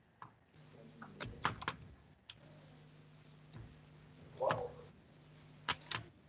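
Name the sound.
typing a recovery key on a computer keyboard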